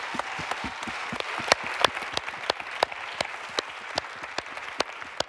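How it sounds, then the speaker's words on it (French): An audience claps for an innovation award winner at a women's conference. The applause is moderately quiet, with distinct individual claps standing out sharply over a steady bed of clapping. "on peut l'applaudir"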